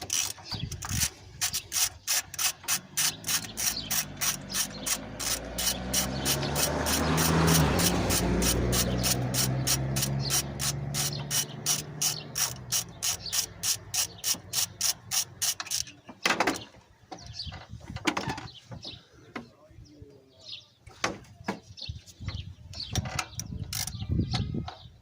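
Repeated ratchet wrench clicks while a nut is loosened on the intake of a 1995/96 GMC, a steady close rhythmic clatter that swells in the middle, then breaks into scattered metallic clicks and knocks toward the end.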